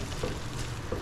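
Corned beef crackles softly in a pan before bitter gourd is added, a brief, even sizzle heard up close with no voices.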